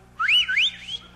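A voice imitating a loud, close two-note rising-and-falling whistle of the kind a father used to call children home, one shrill warbling call about a second long.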